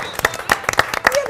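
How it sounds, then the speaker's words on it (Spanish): A studio audience applauds a guest with a short burst of rhythmic clapping, moderately loud and close, lasting barely over a second. "la aplaudimos"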